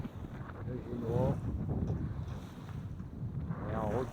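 Wind rising at sea aboard a sailboat leaving the Gulf of Fos, a soft, steady rush of air and water noise, fairly faint, while someone talks over it.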